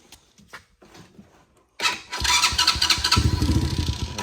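A Chinese ATV engine is started after a few light clicks and fumbling sounds. It catches abruptly and runs loud and near with a rough, uneven idle.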